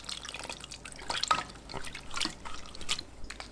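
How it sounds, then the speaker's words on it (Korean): Cooled Andong-style braised chicken sauce is strained through a sieve, making faint, close trickling and irregular dripping of liquid with no voices. "식은 양념을 체에 거릅니다."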